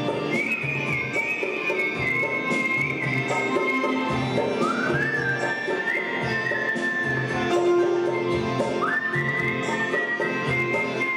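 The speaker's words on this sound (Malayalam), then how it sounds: "വിസിൽഗാനം വേറിട്ട ദൃശ്യവിരുന്നാണ് സമ്മാനിച്ചത്" Whistled melody performed as a song at a Mumbai music and dance night, sustained gliding notes over a steady backing of instruments and hall ambience throughout.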